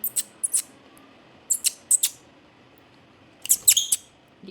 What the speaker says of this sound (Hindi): ये बहुत शैतान तोते होते हैं।